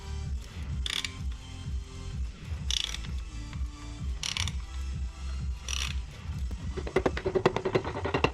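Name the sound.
ring compressor being fitted on 318 engine piston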